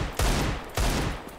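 Two loud, heavy gunshot blasts go off in the video game CS GO, about half a second apart, each with a sharp attack and a short booming decay.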